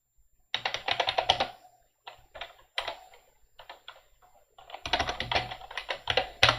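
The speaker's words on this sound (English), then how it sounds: "You can't see the typing I'm doing here." Fast bursts of typing on a computer keyboard at a Linux console, with clustered clicks separated by short pauses, close and clear with no talking.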